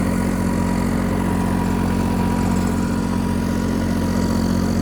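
A Massey 9500 4WD tractor engine runs at a steady idle, a loud, close, even diesel rumble with constant low throb and no breaks or voices.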